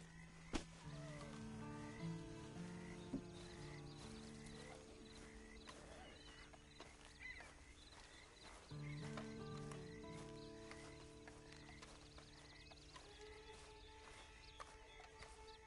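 Horse hooves clip-clopping in Red Dead Redemption 2, steady hoofbeats under sustained musical tones and game ambience, with a brief whinny-like sound early on.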